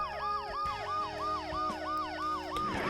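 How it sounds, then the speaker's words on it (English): An ambulance siren wails in the video game Dead Synchronicity: Tomorrow Comes Today, a steady repeating up-and-down electronic cycle about three times a second, continuous and prominent with no talk over it. "The noise the ambulance makes will cover the sound of the glass breaking."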